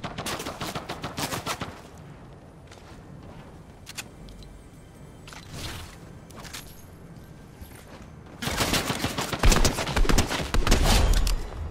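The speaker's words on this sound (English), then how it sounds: "that person's really gonna try to shoot me there" Video game gunfire, likely from a Scarlet Witch themed island battle royale, comes in loud bursts of rapid shots at the start and again near the end, separated by quieter stretches with scattered single shots.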